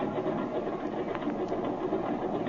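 A vintage airplane engine revs for takeoff in a 1930s radio drama, a dense, steady buzzing drone with a rapid mechanical flutter, loud and continuous with no talking over it.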